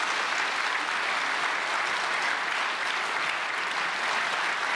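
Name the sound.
audience applause welcoming a speaker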